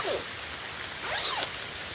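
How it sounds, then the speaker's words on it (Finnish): A slightly faulty backpack zipper is pulled open on a forest hiking trail in August, giving two brief, close rasping zips, a short one at the start and a longer one a second later, over quiet outdoor ambience. "Vetoketju vähän falskaa nykyään."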